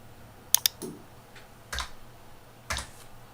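Close keyboard keystrokes at a computer: a quick double tap, then a few single clicks spaced out, including a press of the Enter key, faint against a quiet room.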